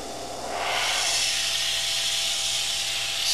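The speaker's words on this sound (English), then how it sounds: "So we'll go ahead and test the airbrush." An Iwata Revolution BR airbrush, fed by an air compressor at about 20 psi, starts spraying with a steady, close hiss of air that rises after a moment and holds evenly.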